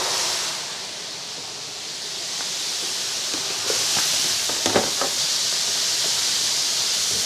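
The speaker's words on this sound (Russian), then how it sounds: "Обжариваем на сильном огне." Chicken breasts fry over high heat in a pan, a steady, loud hiss of sizzling with a few sharper crackles and pops partway through.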